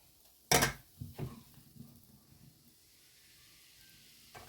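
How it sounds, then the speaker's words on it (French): Crêpe batter poured from a ladle into a buttered frying pan over low heat gives one sharp, loud sizzling burst, then a few softer crackles that fade to a faint hiss, with no talking. "je vais rajouter ma pâte de crêpes à l'aide d'une louche"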